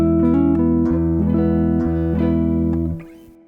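Plucked guitar notes of an E Lydian scale ring out one after another, each sustaining into the next, before fading to quiet at the end.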